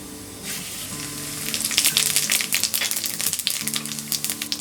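A teaspoon of cumin seeds goes into hot oil already holding mustard seeds, for a dry potato sabzi, and a loud, close crackling sizzle builds and pops unevenly, with light stirring and a faint background hum.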